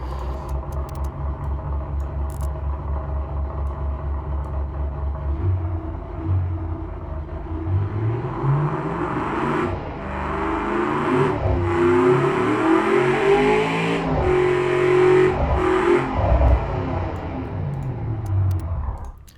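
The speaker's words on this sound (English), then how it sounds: "Let's give the engine a run, see what she sounds like" An AC Cobra with a 427 Cammer V8 rated at 700 horsepower, simulated in the game Automation, idles with a deep lumpy rumble, then revs up and sweeps through rising and falling engine pitch, loud and close throughout.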